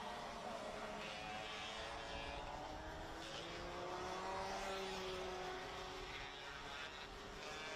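Race cars circling a 1.388 km circuit during a slipstream battle at the BNL Mariembourg round, a steady, fairly distant engine drone with shifting tones as several cars pass, continuous throughout.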